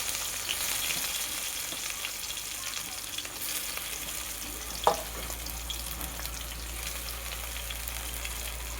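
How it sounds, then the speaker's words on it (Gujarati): Green chili and tomato frying in hot oil in a kadai while making masala Maggi noodles, a steady close sizzle throughout with one brief clatter midway. "હવે એમાં આપણે મરચું નાખી દીધું છે લીલું, પછી એમાં નાખી દેવું આપણે ટમેટા"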